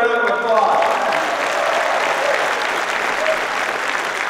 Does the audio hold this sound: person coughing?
no